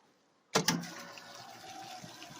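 A sewage grinder pump switches on abruptly while sitting in a bucket of water, giving a sharp start-up splash followed by a steady churning, gurgling run that continues close and fairly loud to the end.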